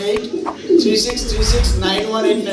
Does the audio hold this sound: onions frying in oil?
no